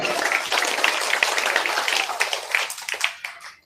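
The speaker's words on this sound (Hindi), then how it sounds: "इनकी बहुत जोरदार तालियां हो" Audience clapping at a Bhagavat katha religious gathering, brisk lively applause that thins out and stops abruptly near the end.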